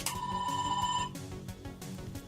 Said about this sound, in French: c'est la sonnerie du téléphone